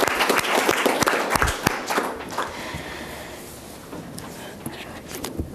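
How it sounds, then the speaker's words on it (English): Audience applause at a government press event breaks out in a burst of close, sharp claps. It dwindles to scattered claps and murmuring, then a few faint claps return near the end. "This is the applause line."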